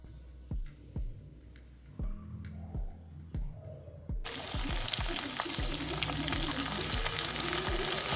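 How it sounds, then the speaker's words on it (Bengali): Potatoes fry in a wok with a constant sizzle that swells to a loud, dense hiss midway, while a utensil stirs and knocks against the pan in regular dull taps. "আলুটা ভালো করে ভাজা হয়ে যাওয়ার পরে"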